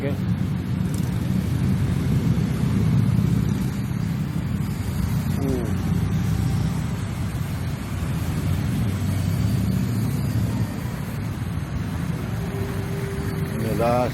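Heavy, congested traffic on Jalan R Sukamto in Palembang at night, a continuous low engine rumble with a brief tonal horn-like note near the end and a voice talking over it.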